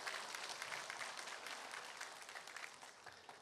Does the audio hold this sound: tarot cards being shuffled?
no